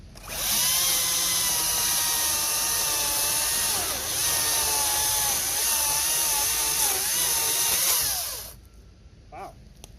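A Makita electric chainsaw with a chain brake cuts steadily through wood, a loud, continuous high-pitched whine with a slightly wavering pitch for about eight seconds before stopping abruptly.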